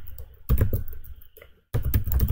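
Keystrokes clatter on a computer keyboard while a file name is entered during a MySQL Workbench tutorial, two close bursts of rapid typing split by a brief pause, with no talk over them.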